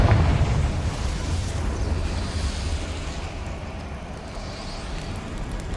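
A Confringo fire spell explodes in the video game Hogwarts Legacy, opening with a rumbling blast that settles into a sustained roaring, crackling wash of flame and debris, moderately loud and steady with no voices.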